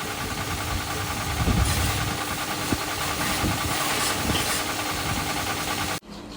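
A motorcycle engine idles steadily and loudly nearby during bike servicing at a shop, its mechanical rumble continuous with a few knocks before cutting off abruptly near the end.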